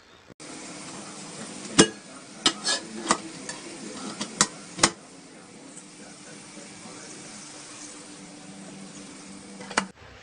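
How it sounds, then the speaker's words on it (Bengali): Mixed vegetables and chopped tomato with green chilli frying in a pan for a light Bengali rohu fish curry, a steady sizzle under sharp clinks of a stirring spoon. "সবজি ভালো করে ভেজে নেওয়া হয়ে গেছে"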